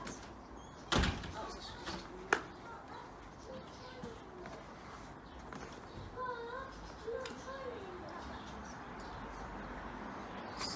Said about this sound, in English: Scarlett, keep the door shut